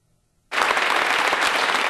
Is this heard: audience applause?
yes